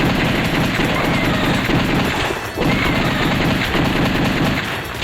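Rapid gunfire from the House of the Dead arcade shooter rattles in dense, continuous bursts, loud and close, with a brief lull near the middle before the shooting resumes.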